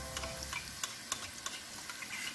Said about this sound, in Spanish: Miren, lo vamos a freír